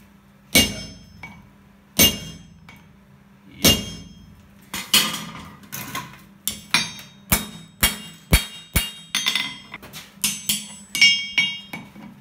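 Hammer blows on hot steel at an anvil while forging farrier's tongs with fullering, a steady series of loud ringing metallic strikes, some in quick pairs, close by with no talk.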